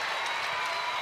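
Cheering and applause from a home crowd at a Texas Tech women's basketball game against Mississippi State, a bright, steady wash of many voices filling the arena.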